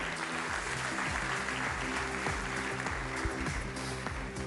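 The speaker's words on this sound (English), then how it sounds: "let's give him a big round of applause" An audience at an awards ceremony applauds Luis Enrique, a dense, steady roar of clapping that holds throughout over soft background music.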